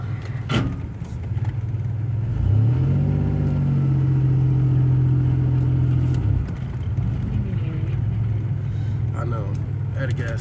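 A car engine idles and then revs in a smooth rising and steady drone for a few seconds, pulling away toward a petrol station, close and fairly loud.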